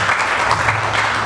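Guests applauding at a wedding ceremony right after the couple is pronounced husband and wife, a short burst of dense, lively clapping in a room.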